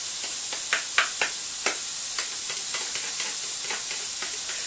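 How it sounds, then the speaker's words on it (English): Steady sizzling hiss of chicken and mixed frozen vegetables frying in a pan, with occasional crackles and light stirring clicks, close by. "pour the vegetables into the frying pan along with the chicken. You might be able to hear it sizzling away"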